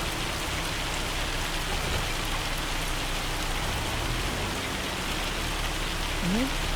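Steady rain falls in Farming Simulator 25, a dense, even hiss of drops that fills the whole stretch without let-up, with a faint brief tone rising near the end.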